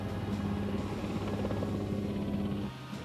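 Military helicopters in flight produce a steady, droning rotor and engine hum that holds at a constant level, then drops off abruptly near the end.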